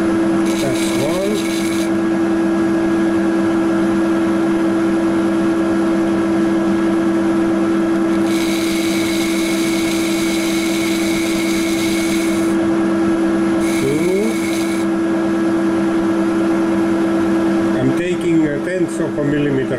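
A metal lathe takes shallow cuts on a backplate for a Bison 4-jaw chuck: a steady motor hum runs throughout, broken by intermittent bursts of hissing, scraping cutting noise.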